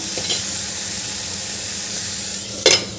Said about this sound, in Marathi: इथे आपण भाजी छान परतून घेतली आहे